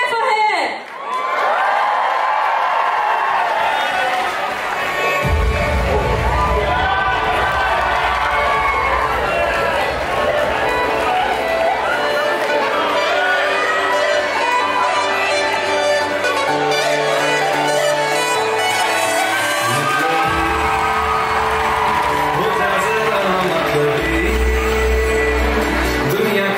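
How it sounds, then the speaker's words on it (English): A dating show studio audience cheers for a male contestant, a loud, sustained crowd roar of whoops and shouts with music thumping underneath throughout. "Can we get a cheer for him?"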